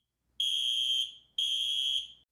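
A homemade magnetic door alarm with a reed switch gives two loud, steady electronic buzzer beeps, each lasting about half a second with a short gap between them, alone and close by.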